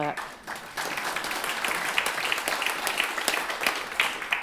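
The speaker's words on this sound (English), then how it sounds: "Give yourself a clap." A church congregation breaks into clapping after a short pause, a busy, fairly close patter of hands that carries on with voices mingled underneath.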